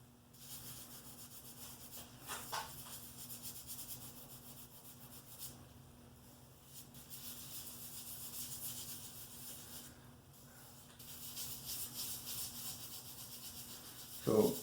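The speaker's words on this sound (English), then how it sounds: "You just have to keep rubbing them with your fingers and rubbing to get the grout to go in." Fingers rub grout into a DIY concrete countertop, making a steady, soft, continuous scratchy rubbing close up, with a slight rise and fall in intensity throughout.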